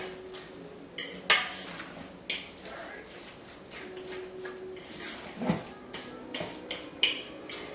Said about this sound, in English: Get it stirred up really good